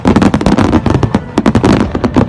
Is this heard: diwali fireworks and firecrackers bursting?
yes